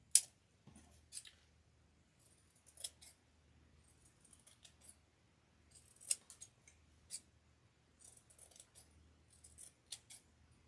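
Scissors snip through the pieces of a pumpkin door hanger craft kit, a series of crisp, close cuts spaced irregularly with quiet pauses between them.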